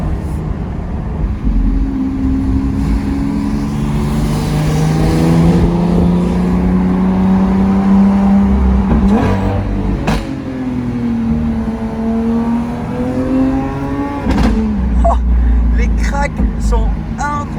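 A Lamborghini Aventador SVJ engine and exhaust rev hard and loud, the pitch climbing, settling and surging again in sustained pulls, with a sharp crackle near the end.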